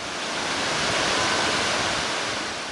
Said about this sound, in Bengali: একের পর এক বিশাল বিশাল ঢেউ আছড়ে পড়ছে কক্সবাজার সৈকতের ঝাবন ও বালুভর্তি জিউব্যাগে